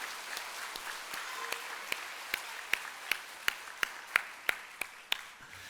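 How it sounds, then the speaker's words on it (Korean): A church congregation at a Sunday service applauds, a soft wash of scattered clapping with sharper individual claps standing out in a steady rhythm, fairly faint and at a distance. "우리 박수하겠습니다."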